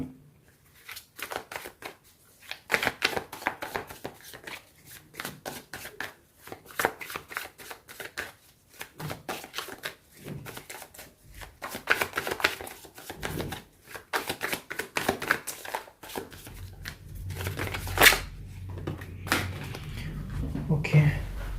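Tarot cards are shuffled by hand in repeated quick riffles and taps throughout, close and fairly loud, with a voice speaking over part of it.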